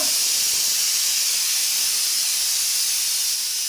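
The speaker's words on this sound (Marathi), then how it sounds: "अजून शिटी वाजते बघ" Steady, loud steam hiss from a pressure cooker whistle releasing steam in a home kitchen, continuous and unbroken throughout with no talk.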